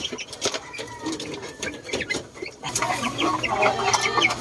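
Backyard chickens and chicks, including a kabir hen, cluck and peep close by, with soft repeated clucks and higher chirps over scratching and pattering, no talking.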